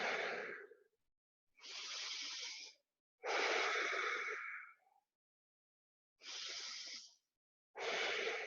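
Slow, deep breathing during a yoga pose in a gentle flow class: five long, close airy breaths separated by short pauses, each a soft hissing inhale or exhale with no talking over them.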